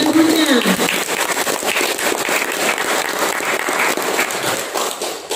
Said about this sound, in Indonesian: Sekali lagi berikan aplaus kepada gurunya.